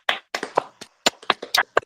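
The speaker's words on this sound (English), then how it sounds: "All right, let's clap." A small group of people clap in a few short, uneven bursts of loud, close hand claps, scattered rather than in steady rhythm, with brief gaps between them.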